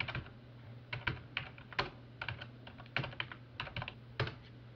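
Keys tap on a computer keyboard as a project name is typed, in quick irregular clusters of close, crisp clicks with short pauses between them and no speech.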